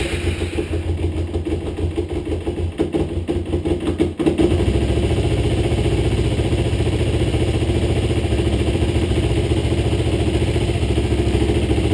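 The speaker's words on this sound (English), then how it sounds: "Now you're ready to start the motorcycle." A motorcycle engine cranks and catches after a few seconds, then settles into a steady, loud idle rumble that continues without pause.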